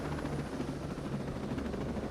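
A helicopter in the video game Ghost Recon Breakpoint comes in to land, its rotor and turbine making a steady, loud, close whirring drone with a faint pulsing chop throughout.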